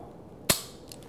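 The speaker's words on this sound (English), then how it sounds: "First, we cock the hammer. Then we take the safety and move it to the firing position. Then we take our shot." A single-action, hammer-fired gun dry-fired with no cartridge gives one sharp, dry metallic snap of the hammer falling. It is close and alone, and a faint click follows.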